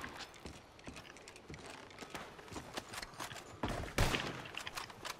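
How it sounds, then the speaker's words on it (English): Gunfire in a Red Dead Redemption 2 shootout, a stream of distant, irregular shots with a couple of louder cracks near the end over a rumbling background. "Ooh, I shot one right there."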